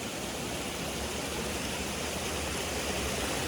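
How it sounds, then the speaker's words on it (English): Constant broadband rush of water cascading over old mill ruins at Poinsett State Park, a steady even hiss with no breaks and no voices. "all that water just cascades right on down"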